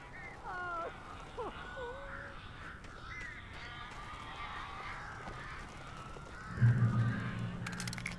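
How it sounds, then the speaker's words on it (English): Crows cawing in the video game Alan Wake, with a few harsh caws near the start and a steady dark ambient bed underneath, swelling with a low rumble near the end. "These birds are weird."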